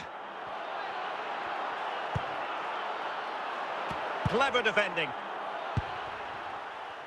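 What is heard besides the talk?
stadium crowd in a football video game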